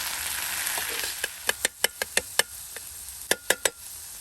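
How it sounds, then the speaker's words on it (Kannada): Ground masala and onion frying on a tawa for egg tawa masala, a close sizzling hiss broken by a series of sharp spatula clacks against the pan in an uneven rhythm. "ಇದರ ಹಸಿ ವಾಸನೆ ಹೋಗುವವರೆಗೆ ಇದನ್ನು ಕೂಡ ಈ ಥರ ಒಳ್ಳೆ ರೀತಿಯಲ್ಲಿ ಫ್ರೈ ಮಾಡಬೇಕು."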